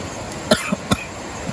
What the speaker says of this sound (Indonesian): jadi malah batuk